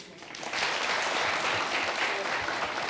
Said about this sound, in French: Je demande bien plus d'applaudissements pour elle